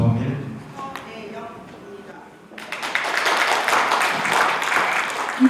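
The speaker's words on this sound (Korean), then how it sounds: "큰 박수로 맞으시기 바랍니다" A voice speaks briefly, then a crowd bursts into sustained applause, many hands clapping together and holding steady to the end.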